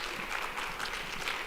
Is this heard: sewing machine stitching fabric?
no